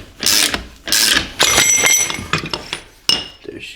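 A socket-and-spacer press is cranked down on a BMW E36 differential to push out a diff bushing, giving repeated close metallic clicks and clinks of ratcheting and tool contact in uneven bursts with a sharp final clack.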